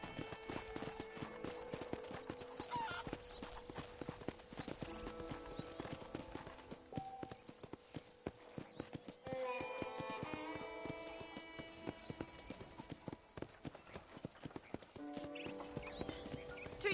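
Horse hooves clip-clop steadily at a walking pace in Red Dead Redemption, with faint ambient game sounds and occasional light creaks underneath, no talking.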